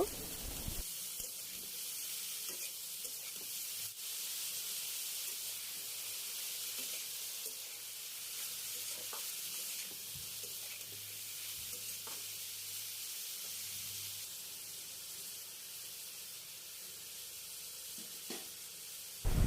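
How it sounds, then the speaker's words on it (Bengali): Snake gourd (chichinga) frying in a pan with sliced green chillies, a steady low sizzle running throughout with faint stirring knocks, quiet and close, no one speaking. "কিছুক্ষণ ভাজার পর ধুয়ে রাখা চিচিঙ্গা দিয়ে দিব"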